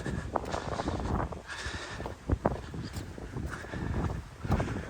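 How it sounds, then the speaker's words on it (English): Steady broadband wind rumbles and buffets throughout at a Peak District reservoir, with gusty bursts and microphone-like thumps, no voices present. "it's a very windy day today."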